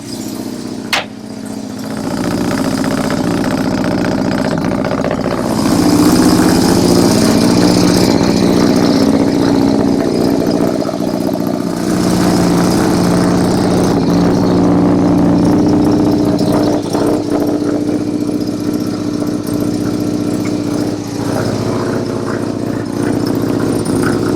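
A Mazda 1200 rotary wagon engine starts with a brief crank, then settles into a loud, close, steady idle with slight throb and rising revs, running continuously with no talk.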